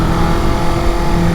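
Engine of a 2020 Kawasaki Ninja 650 motorcycle while cruising, a steady loud drone heard up close, mixed with rushing wind noise and no break in the sound.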